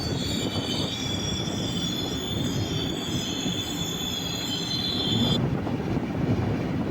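The KSR Bengaluru Express rolls through Paravur station, heard from on board in sleeper class: a continuous low rumble of wheels on rail under a sustained high squeal.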